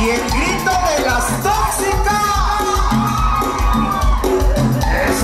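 A carnival dance crowd in Zaragoza shouts, whoops and cheers in loud overlapping bursts, with shouting voices standing out above pounding live music throughout.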